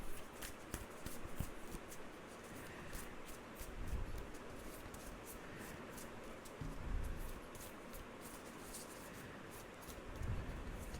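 Tarot cards shuffled by hand: a steady run of soft, papery riffling and flicking, close and fairly quiet, with brief louder bursts now and then and no talking.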